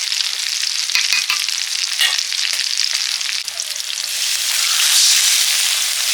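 Pre-roasted lentils drop into a hot pan for khichuri and hiss in a steady, bright sizzle, with a few scraping stir sounds early on and the frying swelling louder toward the end, close up and without talk.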